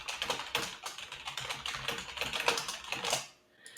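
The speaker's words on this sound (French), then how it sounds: "J'écris sur Discord en même temps." Rapid, irregular typing on a computer keyboard while writing messages on Discord, close and clear with dense clusters of key clicks running continuously before stopping abruptly near the end.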